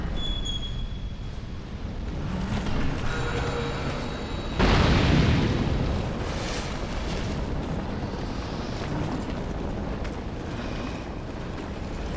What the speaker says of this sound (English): Beware explosion.